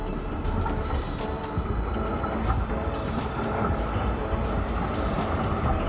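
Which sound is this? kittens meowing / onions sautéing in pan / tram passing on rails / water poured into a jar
tram passing on rails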